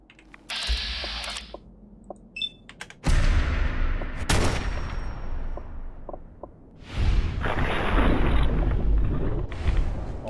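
Gunshots in the Fallout 4 video game: a few loud, sharp bursts with short mechanical clicks between them, fired close up against a dull background rumble with no talking.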